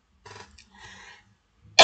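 A teacher in an online class about the Great Navigations gives a short dry throat-clearing cough, with two soft bursts followed by a louder, sharper cough at the end.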